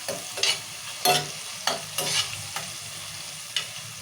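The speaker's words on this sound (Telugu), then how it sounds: "ఇక మంచిగా టమాటాలు వేగాలి మంచిగా వేగాలి" Tomatoes frying in oil in a pan give a soft, steady sizzle, broken by several sharp scraping strokes of a spoon stirring them, close and fairly quiet with no voices.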